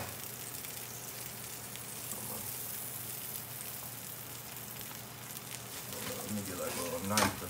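Sandwich fillings sizzle on a hot grill, a steady soft crackle and hiss that runs the whole time, with faint scraping and a voice briefly near the end.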